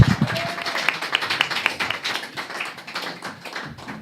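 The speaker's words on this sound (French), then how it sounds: "vous pouvez les applaudir." A student arts-week audience at Sciences Po Strasbourg applauds a team joining the stage, with scattered, moderately loud clapping and a few brief vocal sounds at the start.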